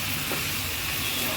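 Fish pieces and fish heads sizzle loudly in a hot pan while being stirred, a continuous close hiss of frying with a brief scraping stir near the start and no talking.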